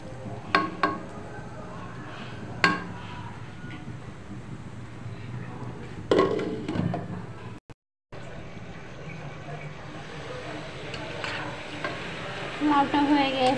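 Bottle gourd and dried fish stir-fried together in a pan, giving a steady close sizzle with repeated scraping and stirring clatter and a brief drop to silence partway through.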